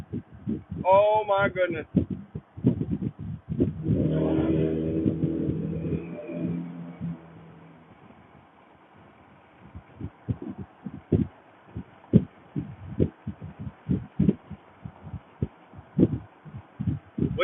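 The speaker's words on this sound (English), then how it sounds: "there's random hail hitting my car" Irregular sharp knocks and thuds of hail striking a car body, scattered in uneven bursts, with a startled voice speaking early on.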